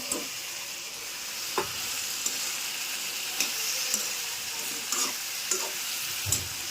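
A bitter gourd curry with a fried fish head cooks in a pan, sizzling steadily as a spatula stirs it, with occasional distinct scrapes and clicks against the pan at irregular intervals; no talking.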